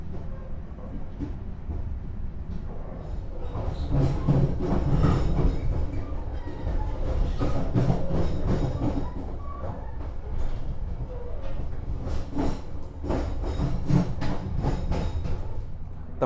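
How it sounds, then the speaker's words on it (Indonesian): The KA Harina executive train runs on rails out of Surabaya Pasar Turi, a steady rumbling roar with rhythmic clickety-clack wheel beats heard from on board, continuous throughout. "kereta api Harina sudah diberangkatkan dari stasiun Surabaya Pasar Turi"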